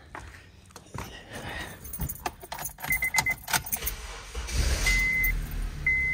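Keys jangle and click near the ignition of a 2007 Honda with an AC compressor that stays on, then the engine cranks and catches into a low, steady idle, close and fairly loud.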